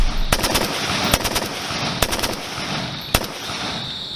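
Sharp rifle shots crack out one at a time at Indian Army infantry target practice, about four loud reports spaced roughly a second apart over a steady outdoor rumble.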